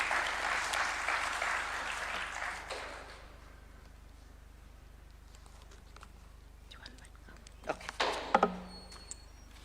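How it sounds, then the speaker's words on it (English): Audience applause at a candidature launch event for the International Criminal Court: a loud burst of clapping for about three seconds, then the room falls quiet apart from a few soft knocks and murmurs. "Another round of applause."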